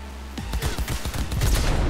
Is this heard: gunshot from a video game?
yes